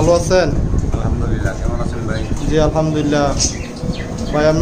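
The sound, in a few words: pigeons cooing at a pigeon farm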